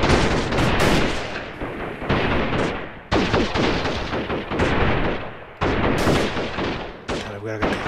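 Gunfire from a rifle in the shooter game Freeman Guerrilla Warfare cracks out in loud, repeated volleys, with several bursts separated by brief decaying pauses, close and dominant.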